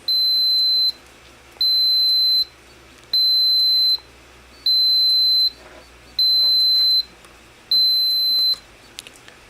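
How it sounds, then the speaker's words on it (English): A temperature controller alarm on a PLC control box beeps in six evenly spaced, loud high-pitched tones, each lasting just under a second, with short quiet gaps between them. "Now we need to get the alarm to turn off."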